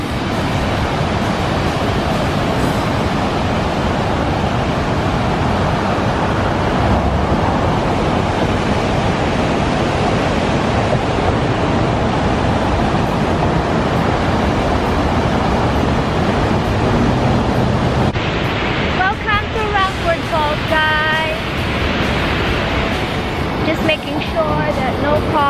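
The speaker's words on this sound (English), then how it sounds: "There you go guys, there's the waterfall." Rumford Falls waterfall heard from a bridge: a loud, continuous broadband rush of falling water with wind buffeting the microphone, and a voice talking over it near the end.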